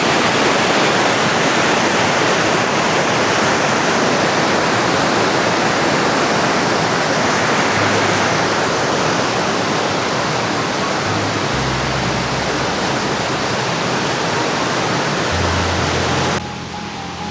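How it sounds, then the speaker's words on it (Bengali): Waterfall at Monte Gelato in Lazio, Italy, roaring as a steady, dense, loud rush of falling water that holds constant throughout, with only faint low rumbles shifting underneath. "কি সুন্দর ঝর্ণা!"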